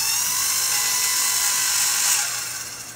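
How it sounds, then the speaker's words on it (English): A new electric blower motor in a Regency i1500 wood stove insert runs with a bad bearing, making a loud, continuous high-pitched whine and grinding rattle that eases off at the end. "So it sounds like a bad bearing or something like that in the electric motor in there."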